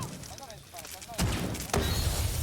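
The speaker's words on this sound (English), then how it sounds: "Gunfire over his head, waiting on the rest of his team to come together." Gunfire in a Rainbow Six Siege pro match on the Skyscraper map crackles in the background, with two sharper bursts, while a commentator talks over it throughout.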